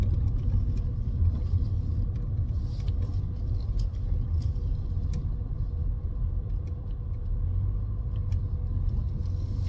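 A car interior on the road, with steady low engine and road rumble running throughout at even loudness and a few faint clicks above, no talking.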